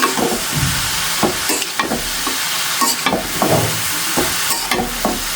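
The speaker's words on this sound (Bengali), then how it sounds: "তরকারিটা আমি কষে ভালো করে ভেজে নিই" Vegetable curry with ground spices and salt frying in a pan, a steady loud sizzle broken by repeated scraping stirs of a spoon against the pan, with no voices.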